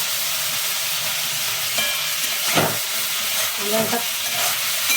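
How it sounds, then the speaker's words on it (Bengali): Baby corn fries in a pan with a steady sizzle, punctuated by a few louder stirring scrapes near the middle and end; a voice briefly says a word. "তাহলে হতে থাক, এটা একটু ভাজা আমরা"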